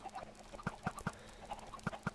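Chickens clucking in the Minecraft video game, a quiet run of short clucks in an uneven rhythm with no talking over them.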